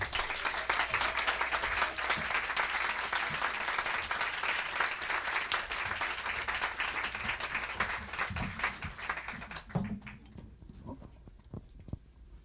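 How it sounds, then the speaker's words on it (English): An audience at a Politics and Prose book event gives the guest authors a round of applause: sustained, dense clapping from a room full of people for about ten seconds, then tapering off into a few scattered last claps. "Please give our guests a round of applause"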